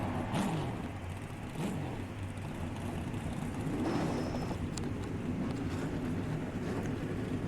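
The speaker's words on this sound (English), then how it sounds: "Drivers, start your engines!" Several V8 Cup Series stock car engines in NR2003 fire up and rumble together in a steady, continuous low drone, with rising revs swelling around the midpoint and occasional brief higher whines over the dense engine noise.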